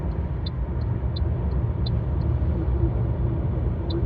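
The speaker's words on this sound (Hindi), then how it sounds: "100 के ऊपर मैंने क्रूज़ सेट कर दिया है।" A 2025 Toyota Corolla Grande X cruising at a steady speed above 100 on cruise control, heard from inside the cabin as a constant low road and engine rumble with faint periodic ticks, no talking.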